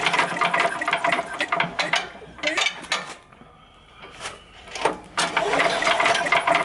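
The recoil starter cord of a Sears Craftsman 9HP wood chipper/spreader engine is pulled several times, and each pull brings a loud close ratcheting whir and mechanical clatter, with a quieter pause midway.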